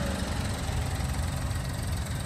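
Steady idle of a 2023 Toyota Wigo G 1.0 engine with automatic transmission, a continuous even hum and rumble heard close up with no talk.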